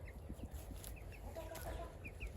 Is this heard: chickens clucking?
yes